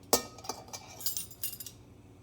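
A small measuring teaspoon of baking powder is leveled with a little scraper, giving a few light metallic clinks and scrapes spaced out over a couple of seconds, close and fairly quiet.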